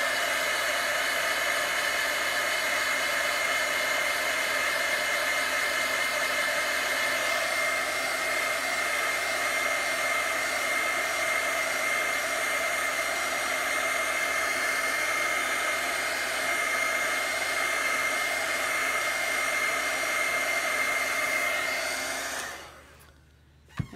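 Hair dryer blowing steadily to dry chalk paste on a craft transfer, a loud, even whir that runs unbroken for about twenty-three seconds and then cuts off abruptly, with no voices.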